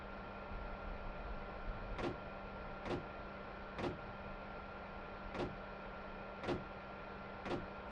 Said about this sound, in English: The collective snap of the circuit breakers always felt special.